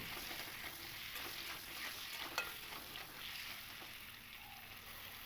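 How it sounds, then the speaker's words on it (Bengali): Pointed gourd fries in oil with turmeric and salt, producing a steady, close bubbling sizzle with faint stirring scrapes throughout. "লবণ আর হলুদটা দিয়ে আমি প্রথমেই পটলগুলোকে খুব ভালো করে ভেজে নেব"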